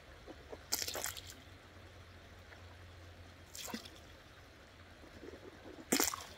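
River water around someone bathing in a river makes three separate close splashes and trickles, spaced a few seconds apart over a soft, steady background.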